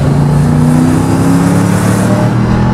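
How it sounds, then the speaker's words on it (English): A Mercedes-AMG G-Class with side-pipe exhausts revs hard. Its loud, steady, thunderous engine roar runs throughout, up close, with no talking. "You put your foot down, and it has side pipes, so it makes an amazing,"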